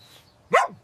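A single short dog bark rings out close by, sharp and brief against quiet surroundings.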